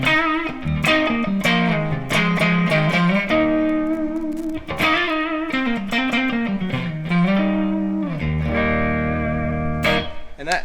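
Electric guitar played through a Jan Ray overdrive pedal into an amp's clean channel gives a bluesy, lightly driven tone, with continuous phrases of bent and sustained notes and a little reverb, loud and without talk.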